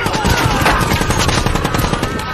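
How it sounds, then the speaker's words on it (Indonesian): Rapid automatic gunfire from a war film set on Saipan, a loud, dense burst of shots close up and continuous throughout. "Anderson dan para anak buahnya memulai tembakan untuk mengalihkan perhatian pasukan Jepang"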